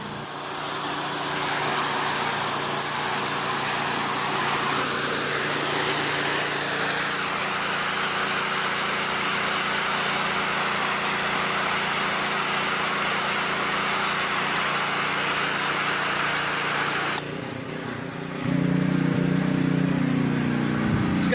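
A Simpson 3600 pressure washer runs with a loud, steady engine drone and hiss of spray through most of the stretch, shifting in tone near the end as the spray changes.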